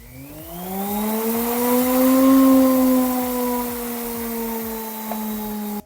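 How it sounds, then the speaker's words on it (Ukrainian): A collector-type washing machine motor, driven through a speed controller, spins up to maximum speed: a high, steady whine with a strong humming pitch that rises slightly, holds, then eases down, loud and close. "Тепер я вмикаю двигун на максимальні оберти"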